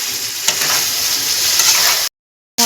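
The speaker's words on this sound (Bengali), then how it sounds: "এবার আমি আলু ও পটলগুলো দিয়ে দিলাম, দিয়ে ভালো করে কষিয়ে নেব।" Potatoes and pointed gourd fry in spiced masala with a loud, steady sizzle and occasional stirring, which cuts off abruptly into a half-second of silence before the sizzle returns.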